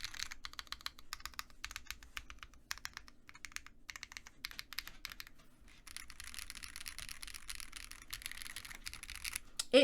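Rapid clicking keystrokes on a Mr. Suit mechanical keyboard built without foam, typed steadily and close up with brief pauses, heard alone.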